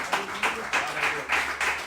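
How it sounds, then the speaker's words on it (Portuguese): A church congregation clapping in a rhythmic, steady beat, loud and close, with faint voices blending underneath. "Aplauda ao Senhor com o seu melhor essa noite."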